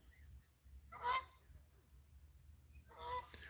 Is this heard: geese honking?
yes